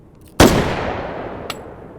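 A single loud rifle shot in the VR shooter H3VR, a sharp crack with a long decaying echo, followed by a faint distant impact about a second later.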